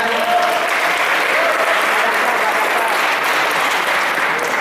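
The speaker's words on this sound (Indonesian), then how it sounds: "Tepuk tangan untuk mereka bertiga." Sustained audience applause at a Kristologi discussion event at Gontor, loud and dense, holding steady for several seconds with no pause.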